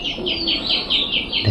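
A pet giribaz pigeon at a home gives a quick, even series of six bright chirping calls, fairly close and steady, with no talk.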